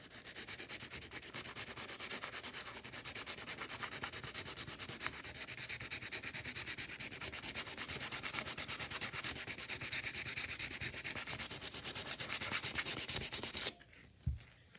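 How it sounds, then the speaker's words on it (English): Continuous rhythmic scratchy sanding of a surfboard ding repair, loud and close, stopping abruptly near the end followed by a short thud. "and you just start sanding"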